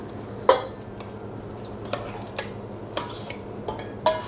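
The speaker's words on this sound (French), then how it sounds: "vous pouvez la fouetter avec un fouet directement dans le saladier" Cold plant-based cream of almond or soy milk whisked in a salad bowl, a handful of separate clinks and taps of the whisk against the bowl, quiet and close, spaced irregularly.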